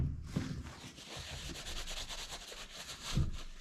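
Rust and corrosion are rubbed off metal after WD-40 is applied, giving a soft continuous scrubbing and rasping sound with a few brief louder scrapes, fairly quiet and close.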